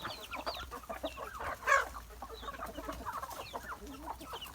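Several hens cluck and chatter close by, overlapping busily, with one sharper, louder squawk near the middle.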